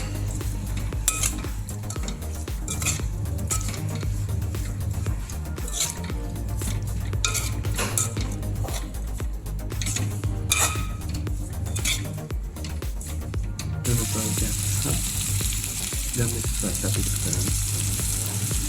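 Chicken fried rice in a pan, with chopped potato and tomato, chili and spice powder being mixed in, sizzles steadily while a utensil stirs and clinks against the pan, close and continuous with no talk.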